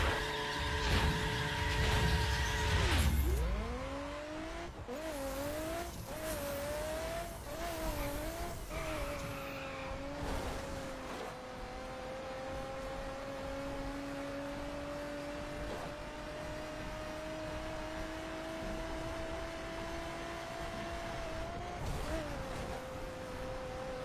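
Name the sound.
racing car engine and skidding, likely a racing game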